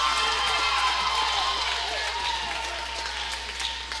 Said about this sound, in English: Clapping's pretty loud.